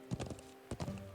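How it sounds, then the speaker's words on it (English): Horse hooves clip-clopping in the video game The Legend of Heroes: Trails of Cold Steel, two short bursts of quick hoofbeats separated by a brief gap, close and fairly quiet, with no voices. "I'm running slow with the horse because, you know, coming up to the cabin"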